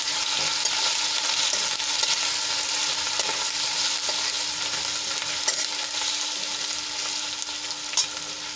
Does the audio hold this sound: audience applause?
no